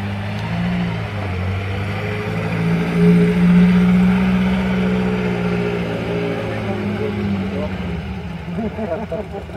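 A Mark 1 Lotus Cortina pulls in at a concours d'elegance, its engine a steady low rumble that swells slightly midway. Voices talk over it throughout.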